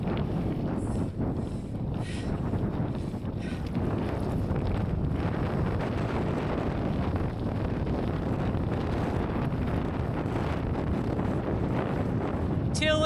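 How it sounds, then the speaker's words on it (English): Strong wind buffets the microphone during a bikepacking ride on tight gravel, a steady loud roar that covers the whole stretch with little letup. "Oh, the wind, it's hard."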